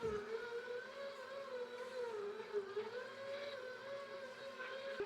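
FOHERE 600W 5.8-quart stand mixer kneading pizza dough, a steady motor whine with a sustained high tone that wavers slightly in pitch, running continuously and close by with no talking.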